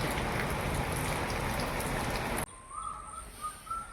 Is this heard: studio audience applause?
no